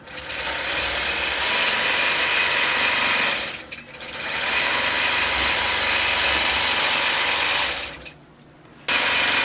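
A longarm quilting machine stitches fabric with a fast, steady mechanical hum, loud and close, pausing briefly twice before restarting, with no voices heard.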